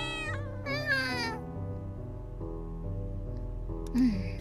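A cat meows in the video game Children of Silentown, giving a couple of rising, drawn-out calls followed by a short sharp meow near the end, set against a quiet low hum.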